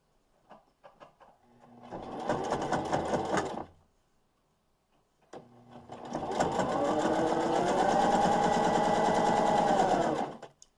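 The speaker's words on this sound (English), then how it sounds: "And now I'm going to sew that down again at 1/4 of an inch. Move my machine forward again." A home sewing machine stitches a quarter-inch seam on a fabric mask in two bursts, a short run then a longer steady whirring run after a pause, close and clear.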